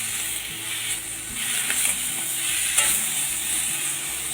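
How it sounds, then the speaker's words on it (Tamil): Tomatoes go into browned onions in a pan for chana masala gravy, followed by a steady sizzle and scraping stirring sounds, moderately close and continuous, with no talking. "இப்போ தக்காளி ஆட் பண்ணிக்கலாம்."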